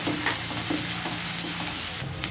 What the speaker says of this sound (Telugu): ఉల్లిపాయ ముక్కలు లైట్గా ఫ్రై అయిన తర్వాత ఇందులో 1 టేబుల్ స్పూన్ పచ్చి బఠానీలు వేసుకోవాలి.